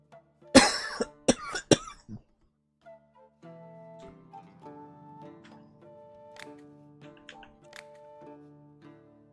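A burst of harsh, close coughing right after a hit of weed, four or five rapid coughs that stop abruptly, followed by quieter tonal game-like sounds and faint clicks.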